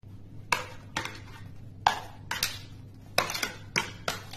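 A metal spoon pressing and tapping a sesame and peanut chikki mixture flat in a pan, giving about eight irregular clinks and scrapes at close range over a low steady hum.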